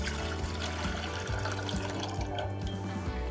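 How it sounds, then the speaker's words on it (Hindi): Water pours steadily into a pan on a stove for apricot chutney, a continuous close splashing stream with faint bubbling flutter, no speech. "अब मैं इसमें पानी ऐड करूँगी"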